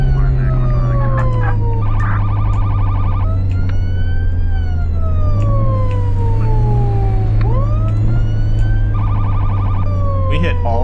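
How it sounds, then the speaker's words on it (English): Several emergency vehicle sirens in the video game Flashing Lights wail and yelp at once over a low engine drone, with alternating electronic tones, loud and continuous throughout. "I probably should have customized the sirens a bit better here."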